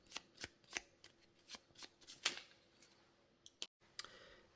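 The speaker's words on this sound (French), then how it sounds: "Ensuite, sur toutes les autres cartes, vous les mélangez." Playing cards for a solo board game setup are shuffled by hand, a series of quick crisp riffles and flicks, close and quiet.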